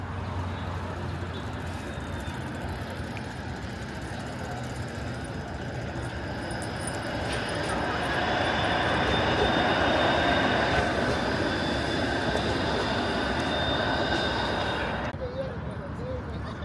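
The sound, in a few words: Toronto streetcar passing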